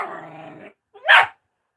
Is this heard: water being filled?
no